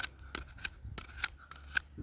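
A Cold Steel Pocket Bushman knife cuts a sheet of paper outdoors in the wild, making a series of sharp, crisp slicing snips, several in a row at irregular intervals, close and fairly quiet.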